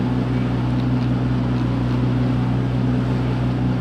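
A sailboat motors along under engine power on a calm sea, its low steady engine drone constant and fairly loud with water and wind hiss over it, no talking.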